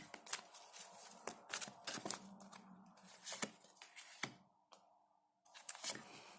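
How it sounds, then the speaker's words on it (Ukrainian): Tarot cards being handled and laid down, a series of crisp papery snaps and slides with short quiet pauses between. "давайте ще трошки розкриємо ці карти"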